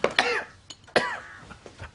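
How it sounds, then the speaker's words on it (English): A nasty cough from a young man, two harsh hacking bursts close up with a softer throaty rasp after, fairly quiet overall. "I say, young man, that's a nasty cough."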